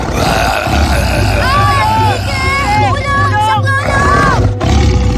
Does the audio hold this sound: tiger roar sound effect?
yes